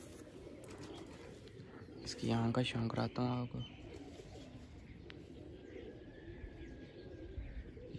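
A pigeon caught in a net coos in a short burst of several low, throaty calls, close and fairly loud, with faint background noise and someone talking nearby.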